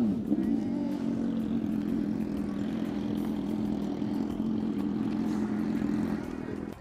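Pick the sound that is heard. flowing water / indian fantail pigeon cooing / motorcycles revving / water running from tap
motorcycles revving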